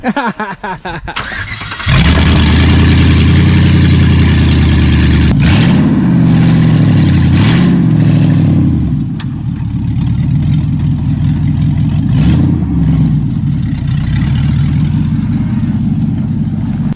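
A Jeep engine cranks briefly, then catches into a loud, close rumble that revs up and down a few times before settling and pulling away at a steady drone.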